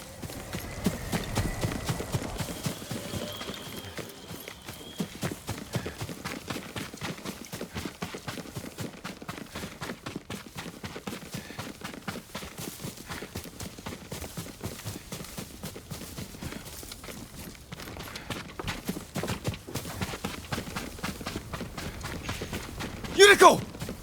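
Hooves of Yuriko's horse in the video game Ghost of Tsushima keep up a continuous clip-clop throughout, fairly close and even, with voices heard at times over the steady hoofbeats.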